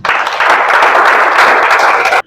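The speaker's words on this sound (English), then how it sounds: "Let's put our hands together." An audience at a seminar bursts into steady applause, many hands clapping together loudly for a couple of seconds before it cuts off abruptly.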